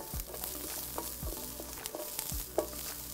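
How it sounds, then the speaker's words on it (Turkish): Mushrooms frying in butter with fresh thyme in a pan, a steady bright sizzle broken by crackling pops and a few scraping stirs, up close and with no voices. "Şu aşamada ben mantara tereyağı ilave edeceğim. Ve taze kekik koyacağım."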